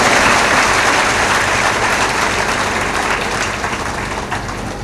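A large crowd claps loudly and steadily at a live religious discourse at the Ujjain Kumbh, with dense, continuous applause and no speech.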